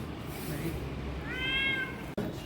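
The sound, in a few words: cats meowing near a mosque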